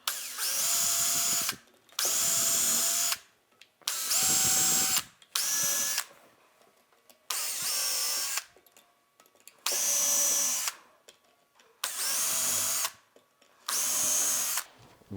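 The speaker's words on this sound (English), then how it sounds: "And I'm just going to pre-drill." A power drill whines in eight short bursts separated by brief pauses, loud and close, each run revving up then cutting off as it pre-drills pilot holes in plywood.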